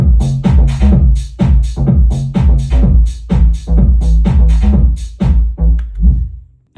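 A simple electronic house music melody, produced in Ableton, plays loud and alone in a bouncy, evenly pulsing pattern of short punchy chords over a deep bass for about seven seconds.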